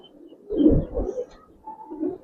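An old-breed pigeon cooing up close, two low throaty coos with a brief pause between them.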